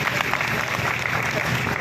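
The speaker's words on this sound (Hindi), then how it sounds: "सब संतों का आपके तालियों के माध्यम से अभिनंदन और स्वागत होना चाहिए।" Crowd at a public gathering clapping to welcome saints, a short, loud burst of dense applause that fills the whole moment without pause.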